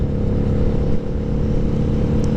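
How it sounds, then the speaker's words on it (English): Motorcycle exhaust picked up through a rider's intercom microphone, a loud, steady droning engine hum with a slight rise, continuous and close with no speech. "occasionally his exhaust comes through his mic and comes through my audio"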